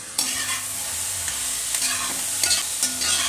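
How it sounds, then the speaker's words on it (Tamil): Chopped onion and carrot with curry leaves sauté in a pan for carrot dosa batter, a steady close sizzle broken by scraping stirs of a spatula every half second or so, with no talking. "கேரட்டை போட்டு ஒரு 3 நிமிஷம் வதங்கிட்டு மாவில் போட்டுடலாம்."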